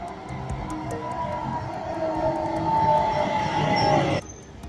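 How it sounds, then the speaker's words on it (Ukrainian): A tram rolling along a city street in Kraków, a steady broad rumble with rail squeal and clattering that swells and holds before cutting away, heard up close amid street ambience without talking. "Такий трамвайчик гарний їде."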